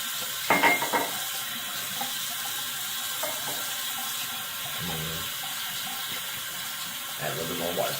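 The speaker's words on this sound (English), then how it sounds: "I need to get that some hot water going so that I can warm up the blade a bit." Hot water runs steadily from a bathroom tap while warming a kamisori straight razor blade for a shave, a continuous faint hiss with a few brief clinks near the start and end.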